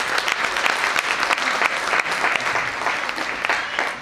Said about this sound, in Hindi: तालियां सब